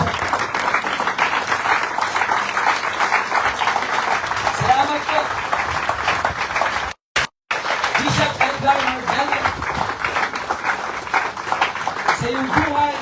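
Mourners at a bishop's interment give a standing ovation, dense sustained clapping that stays loud and steady, briefly cut off midway, then resuming, with a voice speaking over the applause.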